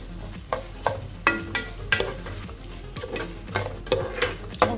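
Onions frying with rock salt in a pan, stirred with a utensil that scrapes and taps the pan about once or twice a second over a quiet sizzle, with no talking.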